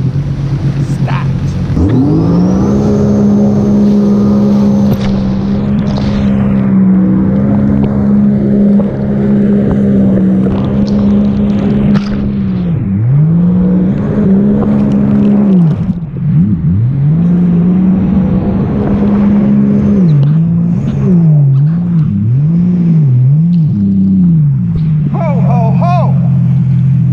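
A Sea-Doo RXT-X 300 jet ski spinning donuts off Myrtle Beach, its engine holding a loud, steady drone near the listener, then surging and dipping in repeated revving swells, with voices talking faintly beneath.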